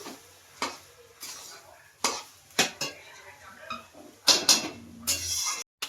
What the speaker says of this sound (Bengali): লাউ তো ভালো করে নেড়ে চেড়ে নেওয়া হচ্ছে এখন